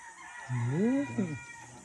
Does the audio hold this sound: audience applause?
no